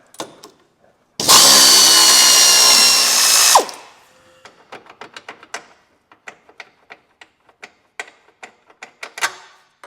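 A power tool bursts into a loud, sustained whine for about two seconds while removing an 18mm transmission mount bolt on a Cruze 1.4, followed by a quick series of sharp ratcheting clicks and clanks.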